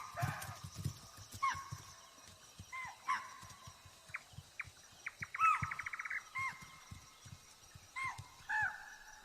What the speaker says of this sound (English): the deer respond to the tiger's presence, barking warning calls loud and clear